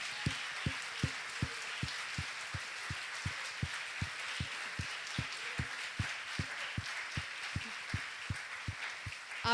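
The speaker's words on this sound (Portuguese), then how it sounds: "Pode aplaudir ao Senhor." A church congregation clapping during a service, a steady crackle of many hands over a regular beat of low thumps, two or three per second, with no voices over it.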